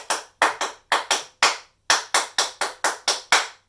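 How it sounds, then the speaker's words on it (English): Sharp hand claps beat out a tap dance rhythm, about fourteen crisp claps in uneven groups with short pauses between phrases, close and clear with no talking. "A good thing to do is clap that out if you need to."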